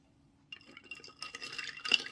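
Water is poured into a cup of cordial, a soft, faint trickle and splash that begins after a half-second pause and builds to a brief louder burst near the end.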